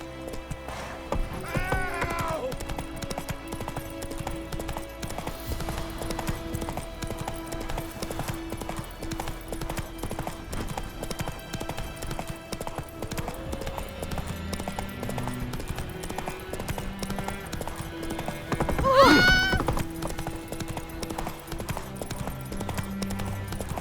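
The horse Roach clip-clops steadily at a gallop in The Witcher 3, hoofbeats continuing quietly under game music, with a brief vocal cry and a whinny-like swell near the end.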